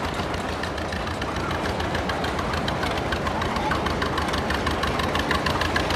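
Vintage tractor engines idling in a parade, among them a 1948 John Deere B, a steady rapid chugging knock that stays even and close for the whole stretch.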